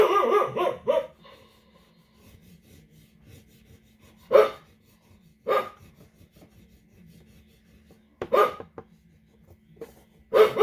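A dog barks in short bursts spaced across several seconds, with quiet rubbing and breathing between them, fairly close in an indoor room where an art lesson is under way.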